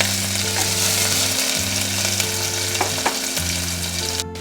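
Chopped onions fry in hot oil with popped mustard and cumin seeds, a loud continuous sizzle with stirring clatter and a few sharp pops, alone with no talk, under steady low background tones.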